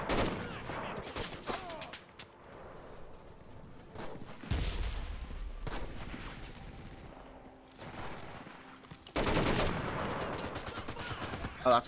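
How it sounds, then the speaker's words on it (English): Grenade explosions and gunfire in the World War II shooter Enlisted during a Berlin battle, several loud thudding blasts amid scattered rifle and machine-gun shots, with brief speech in places. "that's a grenade"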